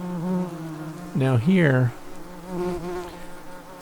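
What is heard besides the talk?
yellow jacket wasps buzzing on removed nest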